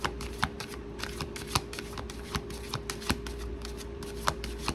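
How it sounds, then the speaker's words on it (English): Tarot cards being shuffled by hand in a quiet room, a steady run of soft riffling slaps and sharp card clicks repeating every half second or so, close and fairly clear over a low constant hum. "These cards are really hard to grab."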